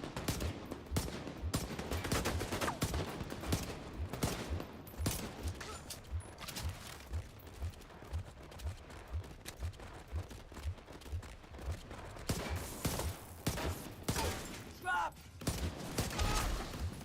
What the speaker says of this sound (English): The hell are they shooting at? They might be shooting at you.